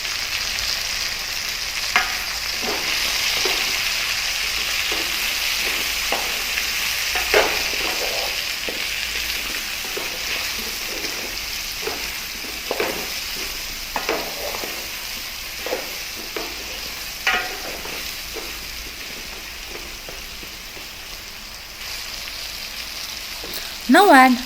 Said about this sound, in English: one teaspoon turmeric powder and give it a good mix